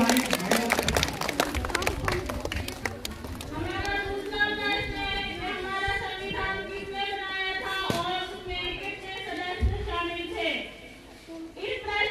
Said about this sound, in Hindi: मैं चाहूँगा इसके लिए 2 तालियां हो जाए